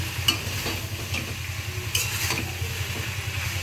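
Pasta is stirred into vegetables in a hot pan, with a steady sizzle of frying under scraping and light clinks of the spoon against the pan, close up and with no talking.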